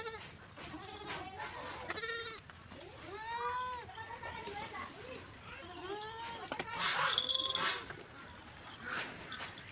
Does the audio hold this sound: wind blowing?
no